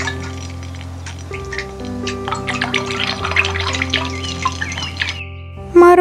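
Water and small Orbeez beads pour over a Barbie doll's head, giving a bright stream of drips, clinks and splashes close by, ending with a louder splash, with no talk.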